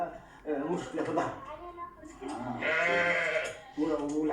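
Sheep bleating at a traditional Tunisian shearing gathering, a drawn-out wavering cry rising over steady conversation, with people talking close by throughout.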